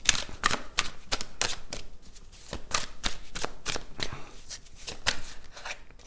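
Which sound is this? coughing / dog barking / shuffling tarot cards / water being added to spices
shuffling tarot cards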